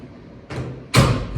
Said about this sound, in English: Okay, how about I just close the door?